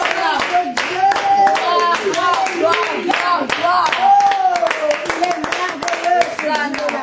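A church congregation claps rhythmically in steady repeated beats while a voice sings or speaks loudly over the clapping throughout.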